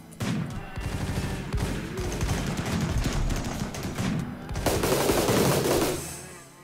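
Gunfire in the modded video game RimWorld B18 rattles in dense, overlapping rapid shots that run almost continuously and swell louder near the end.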